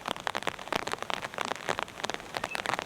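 Steady rain patters on surfaces at a mountain campsite beside a river in New Zealand, dense, close drops pattering without pause and no voices.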